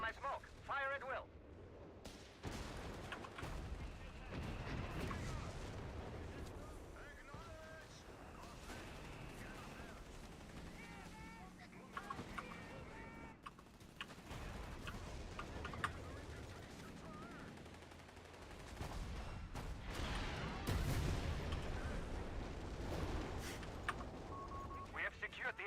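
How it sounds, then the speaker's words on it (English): Artillery batteries fire a probing barrage in a video game, heavy booms and rattling fire scattered across a long stretch, fairly faint, with a voice talking over much of it. "All batteries, probing barrage on my smoke. Fire at will."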